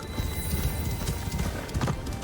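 Horse hooves clip-clop in a steady rhythm in the video game Assassin's Creed Shadows, close and moderately loud over faint game ambience, with a brief whinny mixed in.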